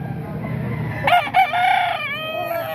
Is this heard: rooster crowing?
yes